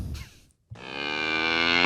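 A person imitates a cow, drawing out one loud, close, sustained moo that starts after a short pause and stays strong to the end of the clip.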